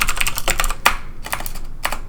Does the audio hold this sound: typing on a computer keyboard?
yes